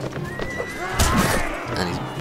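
A horse whinnies loudly in the video game Mount and Blade: Warband, over a busy, layered background of game sounds and faint hoofbeats, the neigh rising sharply about midway.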